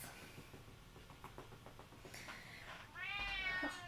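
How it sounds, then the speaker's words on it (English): Soft scratchy rustling, then a cat gives a short meow near the end, close and fairly quiet. "It's a meow meow, it's a kitty."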